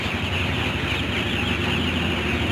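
Broiler chickens cluck and chatter in a crowded poultry shed while being chased around, a dense, steady, close din of many birds.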